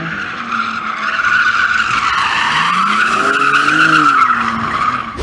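BMW M3 Touring drifting, with loud, sustained tire squeal rising and wavering over a steady engine note for several seconds, close and without talk.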